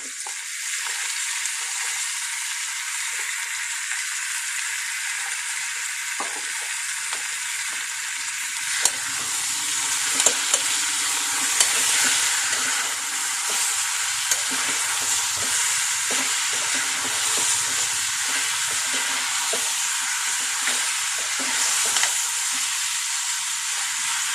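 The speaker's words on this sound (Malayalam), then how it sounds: "ഇനി ഇതിലേക്ക് നമുക്ക് ചിക്കൻ ആഡ് ചെയ്യാം." Chicken pieces land in a hot pan with green chilli and garlic for a chicken stew, setting off a loud, continuous sizzle with occasional scrapes and clicks of stirring.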